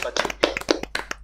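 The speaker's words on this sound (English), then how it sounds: "Let's give one round of applause for everyone who's contributed, both art and discussion." A few people clapping at a book club podcast finale, sparse uneven claps close to the mic with some voices in between.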